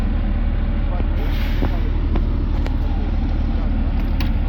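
Loaded delivery truck arriving at a rural work site being cleared for a car scrapyard: a steady, loud engine rumble with wind buffeting, a few brief squeaks and clunks, and people talking nearby.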